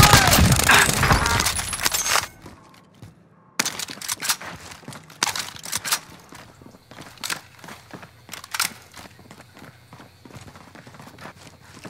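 Gunfire in Call of Duty: Modern Warfare, video game: a loud, chaotic burst opens, then scattered sharp cracks and shots pop at irregular intervals over a quieter background.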